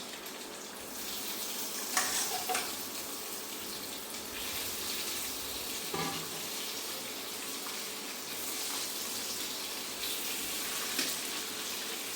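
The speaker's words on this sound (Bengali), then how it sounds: "এক এক করে ডিমগুলি ফ্রাই প্যানে দিয়ে দেবো।" Steady oily sizzling of eggs frying in mustard oil in a frying pan, with a few soft clinks and scrapes of a utensil over the constant crackle.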